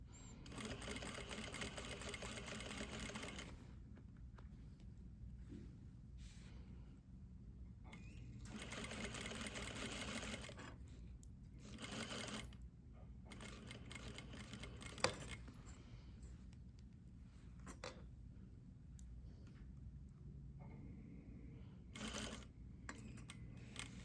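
A sewing machine stitches a shirt yoke with a steady mechanical whir that starts and stops in several runs over a quiet room. Between runs there are small clicks and handling sounds.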